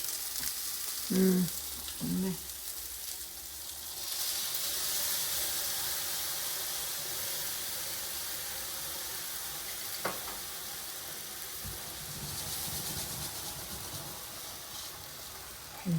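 Chicken fries in a hot pan with a continuous sizzle, and a flare of louder hissing and steam when water is poured in. The cooking noise carries on steadily, with a few faint clinks of utensils near the start.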